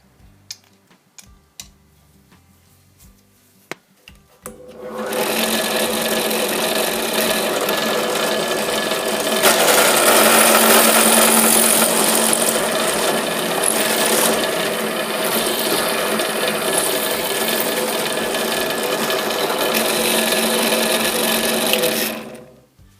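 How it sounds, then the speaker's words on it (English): After a few faint clicks and knocks, a power drill starts and whirs steadily for about seventeen seconds, loud and close, drilling out a shear bolt head on a Yamaha FZS600 ignition barrel, then stops. "we can switch out to a slightly bigger drill bit and hopefully take that head off"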